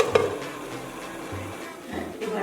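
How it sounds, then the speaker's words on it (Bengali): Chicken pasta ingredients sauté in a pan, giving a steady soft sizzle broken by the scrape and clatter of a spatula stirring at close range. "একটু 1 মিনিট আমি কষে নিচ্ছি।"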